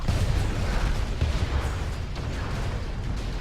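A dense, continuous rumble of blasts and crackling debris from an explosion in Transformers: The Game, loud and close, with low booms rolling through the whole stretch and no break.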